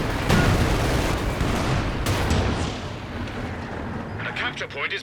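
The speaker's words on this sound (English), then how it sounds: "That was a monster of a Werfer barrage." Rocket artillery barrage from a Werfer in the World War II strategy game Company of Heroes 2: a loud, dense rumble of impacts and blasts that fades after a few seconds, with gunfire crackling near the end.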